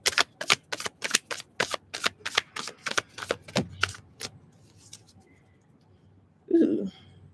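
Tarot cards are shuffled in a quick run of about a dozen crisp riffling flicks, close and steady, then the deck falls quiet before a single soft thump as a card is pulled and set down.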